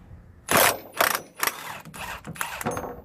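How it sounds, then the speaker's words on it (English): Loud ratcheting clicks in four or five quick bursts as a wrench backs a nut off a Toyota center support bearing, with no talking. "right now we're going to take this bolt, this nut off"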